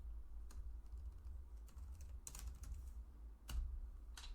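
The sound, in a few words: typing on a computer keyboard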